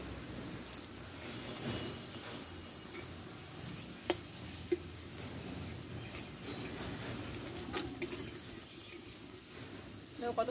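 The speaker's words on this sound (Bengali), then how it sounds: "দুই পিঠ আমি ভেজে নেব।" An egg paratha fries in a pan with a faint, continuous crackling sizzle like light rain, with a couple of soft clicks and low talk in the background.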